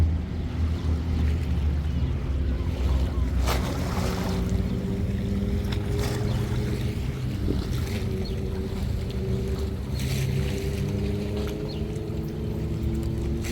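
Sea waves wash against a harbour quay in Martigues, a continuous rumbling surge with occasional splashes and wind buffeting the microphone, steady and fairly loud with no talk.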